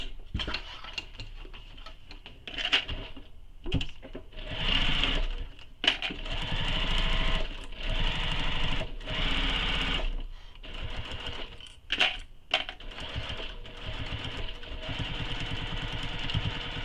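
A sewing machine runs a long basting stitch along the curved edges of a fabric tote bag, fast rattling bursts of stitching broken by short pauses and restarts, close and loud.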